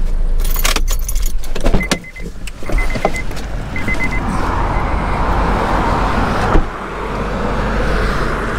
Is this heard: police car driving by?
yes